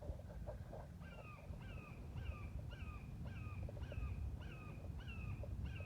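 Crows cawing in a steady run of repeated calls, roughly one every half second, moderately close over a constant low rumble of background noise.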